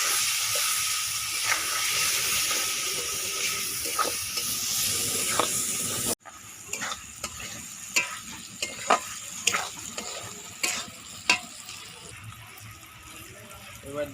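Chopped mutton frying in a pan with chili, turmeric and cumin powder, a steady loud sizzle that drops after a few seconds into a quieter hiss broken by clinks and scrapes of stirring.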